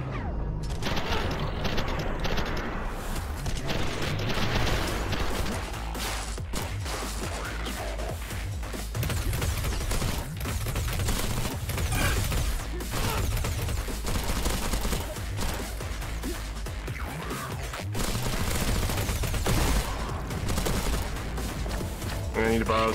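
Gunfire in the first-person shooter SPRAWL crackles in rapid dense bursts over loud game music and effects, nearly continuous and close throughout.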